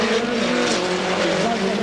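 A Peugeot 205 or Lancia Delta rally car races flat out across circuit tarmac toward the finish line at the 1988 Race of Champions, its engine a loud, steady, close roar that holds for the whole stretch with a faint hint of tyre squeal.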